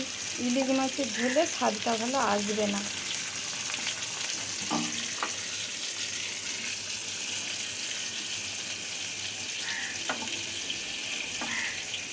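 Potatoes and eggplant frying in oil in a pan, a continuous soft hiss and sizzle with occasional stirring scrapes, while a voice speaks briefly near the start and a few short sounds break through later.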